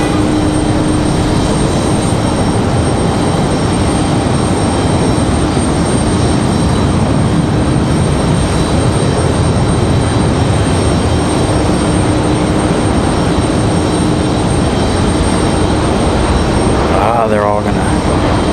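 A WestJet jet airliner arriving from Calgary at Raleigh-Durham International Airport: a loud, steady engine roar heard from nearby, continuous throughout, with a brief rising whine near the end.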